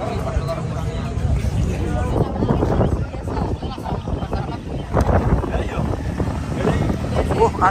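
Strong wind buffets a roadside stall selling pecel pincuk in the early morning, roaring over the microphone in steady gusts with a few low thuds, while people talk throughout.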